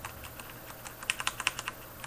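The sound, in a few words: typing on SteelSeries 7G keyboard, Cherry Black linear switches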